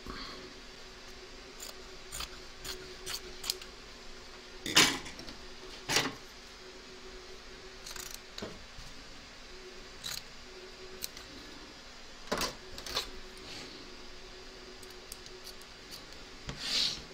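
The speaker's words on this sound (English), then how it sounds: "You're now going to trim up all your fabric from both back and front of the hoop" Scissors trim appliqué fabric on both sides of an embroidery hoop: soft snips and rubbing at close range, with a few sharper cuts spaced irregularly through a quiet stretch.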